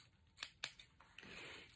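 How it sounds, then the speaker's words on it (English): Scissors snipping through packing tape on a Scentsy warmer bulb box, two crisp close cuts in quick succession followed by a rustle of the box, quiet with no talking. "use my scissors."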